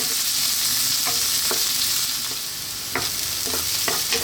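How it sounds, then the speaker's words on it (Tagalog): Garlic and onion frying in oil for chicken fried rice, a constant loud close sizzle with a few soft scrapes of a spatula stirring. "Now, mag-a-add din tayo ng onion. So, hintayin lang natin mag-brown yung ating garlic."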